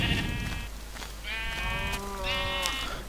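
Sheep in a video game bleat in a series of wavering, harmonic cries, several calls spread over a few seconds at moderate loudness, with no talking.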